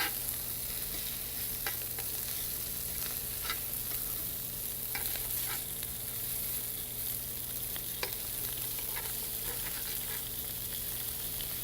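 Potatoes sear in oil in a hot pan with a steady, even sizzle, and scattered small crackles and pops rise over the hiss. No one speaks.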